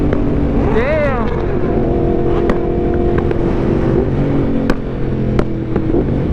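A superbike engine revs hard near a car meet, with a rising pitch sweep early on, then a steady throaty idle and blips punctuated by sharp pops, loud and close.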